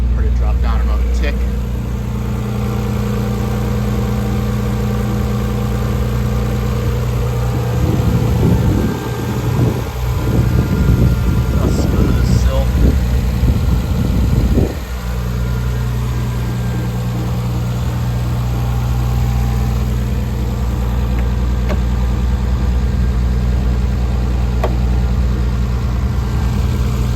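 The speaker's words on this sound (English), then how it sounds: "She'll stay into high idle for a little bit." A 1990 Nissan 300ZX idles high after a cold start, a steady, loud engine drone that continues throughout with a burst of clattering handling noise in the middle, and a person talks over it.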